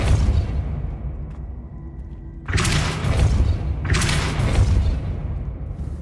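Depulso force-push spell cast in the Hogwarts Legacy video game: two loud, sudden blasts a second or so apart, each a broad rushing burst over a steady low background.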